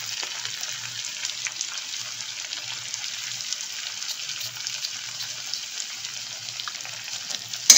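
Asafoetida sizzles in hot oil at a moderate, even level, a continuous soft frying hiss with faint crackles and no voice over it.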